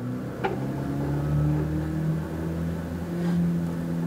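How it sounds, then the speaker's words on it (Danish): Simulated car engine in a driving school simulator, accelerating steadily after a shift into second gear; a continuous low engine drone rises and swells, with a faint click near the start and no talking. "løfter koblingen igen og giver speeder"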